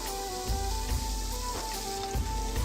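Gulab jamun dough balls fry in hot oil with a continuous bubbling sizzle, punctuated by periodic louder pops and crackles, while faint tonal sounds run underneath.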